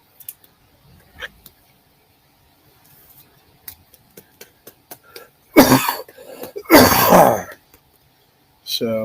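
Two loud, close coughs burst out one after another, preceded by scattered faint ticks and clicks in an otherwise quiet room.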